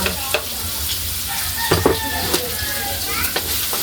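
Onion and garlic sauté in a hot pan for chopsuey with a steady, close sizzle throughout, broken by a few scraping stirs and light utensil clinks.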